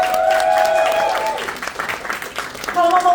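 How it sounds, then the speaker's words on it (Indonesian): Applause from a theatre audience at a song launch event, a dense wash of clapping that swells and fades, mixed with a voice and sustained musical tones. "sekali lagi tepuk tangan dong buat Mama Ute."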